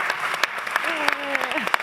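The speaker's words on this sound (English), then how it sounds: "a big round of applause?" Crowd clapping at a Life in Space panel during the FII Priority Summit at the UN General Assembly in New York, steady applause with a voice speaking over it through most of the moment.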